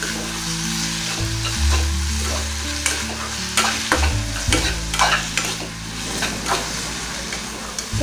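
Tomatoes and a clove of garlic sautéing in a pan for peanut tomato chutney, a loud continuous sizzle and hiss with repeated stirring scrapes and clatter close by, over a low background hum.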